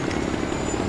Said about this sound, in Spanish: Aquí tenemos un helicóptero en el que me estoy montando.